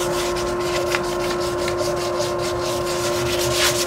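Sandpaper rubbing steadily over a guitar body thickly coated in Flex Seal spray, a continuous close gritty scrubbing with faint rhythmic strokes and no talk.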